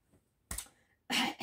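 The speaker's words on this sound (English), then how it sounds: "It's like throwing fibres about and making me cough." Two short, close coughs, separated by a brief pause, from someone sorting clothes in a quiet room.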